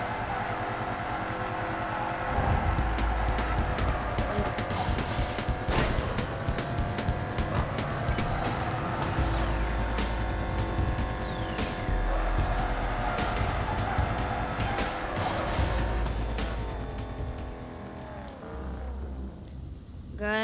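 A car drifts in the Need for Speed video game, producing a continuous, loud roar of engine and tire noise that shifts in pitch for about twenty seconds, with no talking.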